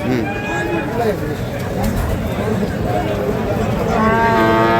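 A Sahiwal breed bull moos at a cattle farm in Munshiganj, giving several drawn-out lowing calls, close and loud, while people talk nearby.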